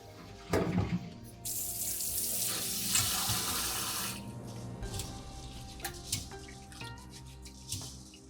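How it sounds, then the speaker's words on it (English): Dry rice rinsed by hand in a bowl of water for sushi: a brief splash, then a steady rush of running tap water and sloshing, followed by drips and light swishing as the water settles, close and fairly quiet. "The first rinse must be quick, because the dry rice absorbs starchy water and flavor of the brine."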